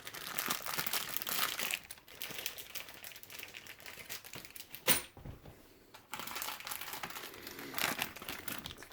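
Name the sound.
plastic parts bag being opened, Tamiya CC-02 kit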